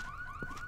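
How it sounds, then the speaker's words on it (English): Car alarm in the video game Rainbow Six Siege, a steady, rising electronic whoop that repeats in a short cycle at moderate distance, with no talk over it. "Where do you think the fucking car alarms are coming from?"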